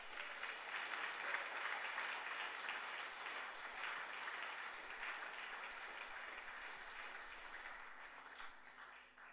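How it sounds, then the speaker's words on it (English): Church congregation at a baptism service gives a sustained round of applause, an even, distant wash of many hands clapping that continues for several seconds without talk. "Let's give Chris a big round of applause as he comes up."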